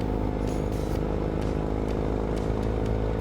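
A BMW R18 cruiser motorcycle riding along, its big engine giving a steady, loud, close rumble with wind noise that runs without a break the whole time.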